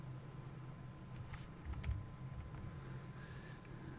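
Quiet typing on a computer keyboard, a few scattered key clicks in short bursts over a faint steady hum, close but soft and without speech.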